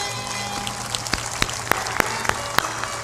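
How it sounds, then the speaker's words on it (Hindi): Scattered clapping from an audience at a religious gathering in Madhepura, a few sharp claps standing out over a low steady background hum, with no talk. "ताली बजा दो।"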